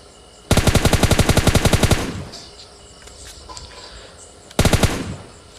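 Automatic gunfire in a PUBG Lite match: a loud rapid burst of about fifteen evenly spaced shots over a second and a half, then quieter game ambience, then a second short burst near the end.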